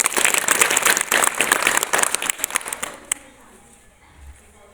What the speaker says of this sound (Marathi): व्हेरी गुड, टाळ्या वाजवा.